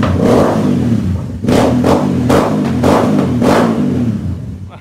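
A Royal Enfield Interceptor motorcycle fitted with an aftermarket exhaust idles with a loud, close rumble, then is blipped through several quick revs in a row.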